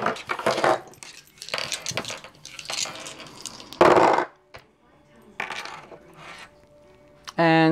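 Dice rolled and clattering during a tarot-style love reading, heard as several short rattling bursts between stretches of talk, with a sharper clack near the end.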